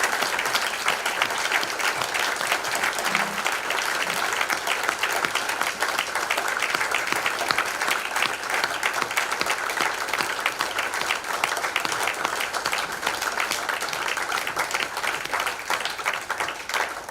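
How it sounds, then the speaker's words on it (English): A large crowd at the Indie Awards 2021 ceremony gives sustained, dense applause that holds at an even level for the whole stretch, with almost no talking over it. "Please give her a massive round of applause."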